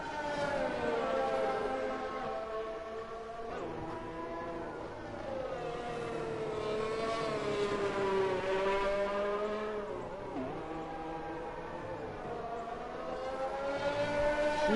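A Formula 1 car engine in F1 2019 at the Chinese Grand Prix screams continuously through a lap, its high whine rising and falling with each throttle change and gear shift, loud and close.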